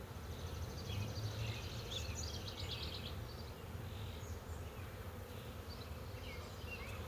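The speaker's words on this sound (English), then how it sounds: "Frame number 6 is just packed with bees. Very loud, very heavy." A dense, continuous buzz of many honeybees on a packed hive frame fills the space, a loud droning hum with faint higher whines drifting over it.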